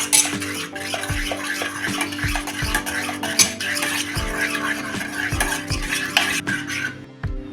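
Repeated soft thuds and scraping as a utensil mashes cooked dal against the bottom of a pot, in a steady rhythm of about a dozen strokes.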